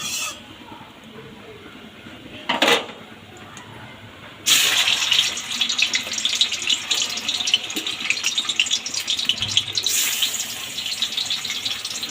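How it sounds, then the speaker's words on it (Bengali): Fish dropped into hot oil in a home kitchen sets off a bright, hissing sizzle about four seconds in. It continues steadily and close by, with a short clatter just before and no talk over it. "দেখুন মাছটা দিয়ে দেবো, তেলটা হয়ে গেছে।"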